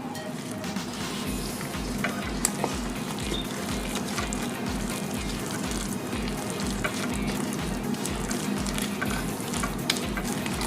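Vegan blueberry pancake batter is folded lightly in a bowl to coat the blueberries, making a steady, rhythmic scraping swish at close range that repeats evenly throughout, with no one speaking.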